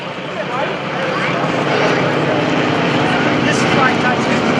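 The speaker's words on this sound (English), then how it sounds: "You'll hear that propeller changing its a little bit." Stearman biplane performing at an airshow, its propeller and radial engine droning steadily and loud, the propeller pitch shifting slightly, with a voice speaking over the engine noise.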